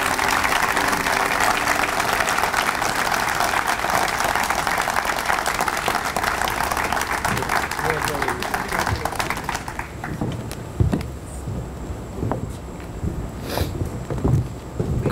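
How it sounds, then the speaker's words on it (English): A crowd applauds an award recipient presented with a plaque at a Deputy Governor's Employee of the Year award ceremony. Dense, steady clapping fills about ten seconds, then stops, leaving quieter room noise and scattered footsteps. "let's give him another round of applause"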